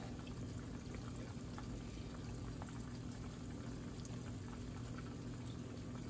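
Country fried steak bubbles in hot oil in a fryer, a steady dense hiss and low rolling simmer that stays constant and fairly quiet throughout, with no voices.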